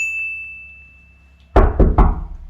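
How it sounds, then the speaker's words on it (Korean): Three sharp, loud knocks land on a door from the inside, close and spaced apart, after a quiet stretch with a faint steady hum. "안에서 밖으로 노크를해요"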